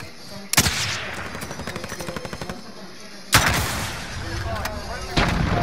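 Loud booming explosions punctuate rapid bursts of gunfire in a Warzone video game match, with a second big blast midway and another near the end; a faint voice speaks beneath.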